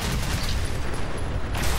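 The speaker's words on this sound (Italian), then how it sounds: "Che bella esplosione." A large explosion in Fallout 4, a continuous dense roar filling the whole short stretch at high loudness with no voices over it.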